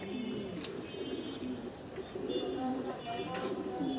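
Pigeons kept in a loft coo softly and repeatedly in winter, faint low burbling calls over a quiet background.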